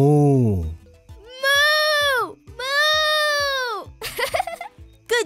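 A voice imitates animal calls from a picture book, a series of long wavering bleat-like and cry-like sounds in bursts, close and loud, with a short busier stretch near the end.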